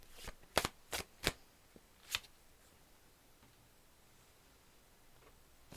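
A handful of tarot cards riffled and tapped in a quiet room, a few crisp slaps close together, one more a moment later, then near silence.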